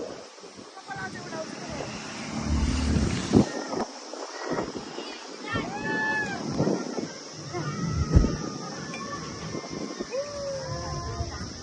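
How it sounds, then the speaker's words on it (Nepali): Cold mountain wind on the trek from Pokhara to Ghandruk buffets the microphone in uneven bursts while people chat and exclaim close by. "यस्तो चिसो हावा"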